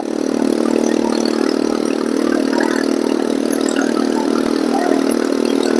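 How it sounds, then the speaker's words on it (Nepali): A scooter with no silencer runs loud and steady, a raw, buzzing engine drone holding nearly constant for several seconds on a busy street in Dharan, with no talk over it. "ए यो स्कुटी पो करा रहेछ यार हेलो साइलेन्सर कहाँ छ यार यसको बबाल छ त"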